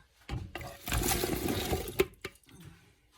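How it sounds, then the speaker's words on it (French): Chopped autumn vegetables tip into a soup pot, a close, busy rattling tumble lasting around two seconds, with a few lighter knocks afterward. "Et maintenant, je vais verser mes légumes."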